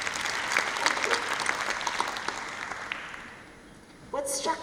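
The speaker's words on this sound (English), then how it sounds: "Please give a round of applause." Audience applause in a conference hall during an AGM, a dense steady clapping from many hands that fades over several seconds, then a voice begins speaking.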